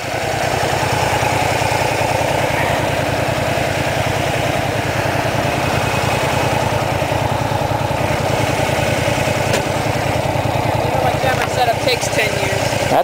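A motorcycle engine runs steadily and loudly at close range, a constant droning rumble with no pauses, while a rider prepares to do wheelies.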